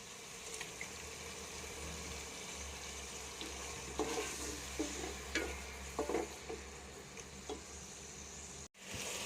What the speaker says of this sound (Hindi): यहाँ पे हम लाल टमाटर ऐड करेंगे। बिस्मिल्लाहिर्रहमानिर्रहीम। हल्का सा यहाँ पे पानी ऐड करेंगे ताकि टमाटर हमारे जो हैं वो अच्छी तरह गल जाएँ।